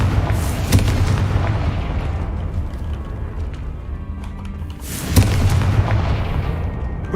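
Confringo blasting curse in Hogwarts Legacy, heard as two deep booming explosions a few seconds apart, each a sharp burst that rumbles on over a continuous low game background.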